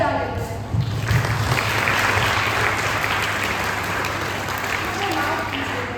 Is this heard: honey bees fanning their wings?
no